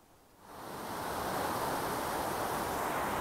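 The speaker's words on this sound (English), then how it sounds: "This is the Zigzag River." The Zigzag River near Mount Hood rushes in a steady broadband roar that swells in after a quieter start, then holds constant and close.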